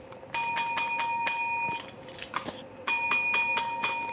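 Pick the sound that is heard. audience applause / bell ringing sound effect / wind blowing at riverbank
bell ringing sound effect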